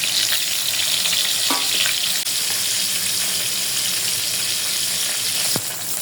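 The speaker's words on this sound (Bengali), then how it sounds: "প্রথমে মাছগুলো ভেজে নেব তিন পিস মাছ" Three pieces of fresh koi fish fry in oil, producing a loud, continuous sizzle and crackle, with a couple of brief utensil taps near the start and end.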